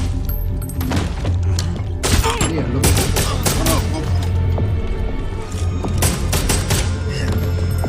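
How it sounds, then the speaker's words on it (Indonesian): Rapid bursts of gunfire crack and thump loudly, overlapping with booms and clatter in a chaotic, continuous barrage. "terkejut mendengar suara tembakan"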